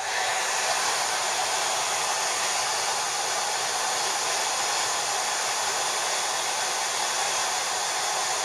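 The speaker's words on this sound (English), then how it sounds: "we can dry the solvent off with a hairdryer" A hair dryer blows with a steady, loud broadband whoosh, unchanging throughout and with no voices.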